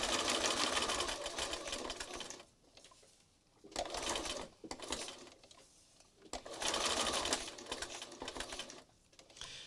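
A sewing machine stitches through a mixed-media scrap collage card in straight runs, its fast, close chatter coming in three separate bursts with short quiet pauses between them.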